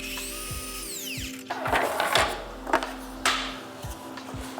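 A miter saw cuts a 45-degree angle through wooden window casing, with a whining motor spin-up, a buzzing cut and a few sharp clunks and knocks close by.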